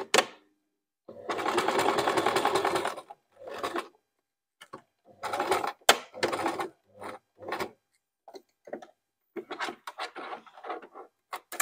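A sewing machine is stitching a thick seam, turned slowly by hand at the handwheel, first with a longer mechanical whir, then a series of short, separate clicks and thunks with silent gaps between them.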